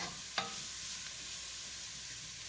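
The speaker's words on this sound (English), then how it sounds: "if you're cooking and sauteing and you see you need a little more oil, just add a little more oil to it" Squash and mixed vegetables sauté in oil in a home kitchen pan, giving a steady soft sizzle with one sharp utensil clink near the start and no talking.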